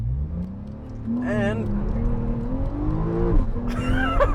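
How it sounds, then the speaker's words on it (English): Porsche 991 Turbo S launching from a standstill, its engine revving up over a steady low drone while tires squeal, with a person's voice briefly heard alongside. "this car does not stay quiet when launching it"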